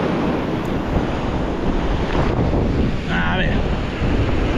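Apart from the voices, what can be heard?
strong wind and waves on the seashore while fishing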